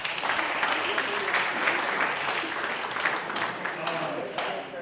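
Applause at a high school football banquet as the audience claps for the seniors, a dense steady patter of many hands with a few sharper claps standing out near the end.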